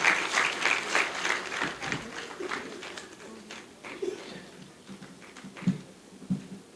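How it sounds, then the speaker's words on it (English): Applause from guests at the launch of a charity foundation in Gambia, scattered clapping that tapers off while a voice speaks over it, with birds cooing in the background. "she deserves a big round of applause"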